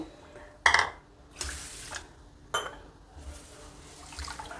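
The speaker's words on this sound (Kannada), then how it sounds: "ಈಗ ನೀರು ಹಾಕಿ ಚೆನ್ನಾಗಿ ತೊಳಿಬೇಕು" Roasted rice for Coorg akki kadubu is washed with water in a vessel, with a few sharp splashing bursts and sloshing swishes between quieter moments, close by.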